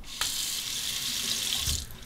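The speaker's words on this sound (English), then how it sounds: "Let's temper the razor under the hot water." Hot water runs steadily from a bathroom tap over a Rex Envoy safety razor, a continuous close hiss with a brief change in splash as the razor moves under the stream.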